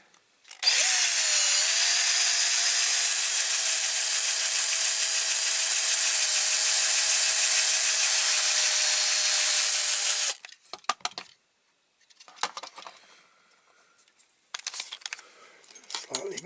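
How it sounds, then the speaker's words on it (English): A power drill bores into the die-cast base of a Dinky Toys Nash Rambler model car, a loud sustained high whine for about ten seconds, followed by scattered metallic rattles and handling clinks. "we'll go and get the drill out, and then we'll drill the base off"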